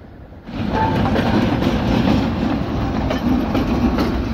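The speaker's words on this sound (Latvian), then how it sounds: "Bet redziet, tur ir vilciens." A freight train rolls by on railway tracks near a station, its loud, close rumble and rhythmic clatter of wheels starting abruptly and holding steady as the wagons pass.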